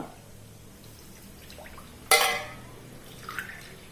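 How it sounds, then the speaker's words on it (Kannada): About two cups of water poured into a flat pan on a stove makes a sudden close splash that fades quickly, followed by a fainter splash a moment later against a quiet kitchen background. "ಅದಕ್ಕೆ ಈಗ ರವೆ ತಗೊಂಡ ಕಪ್ಪಲ್ಲಿ 2 ಕಪ್ಪಿನಷ್ಟು ನೀರನ್ನು ಇದಕ್ಕೆ ಹಾಕಿಕೊಳ್ಳುವ"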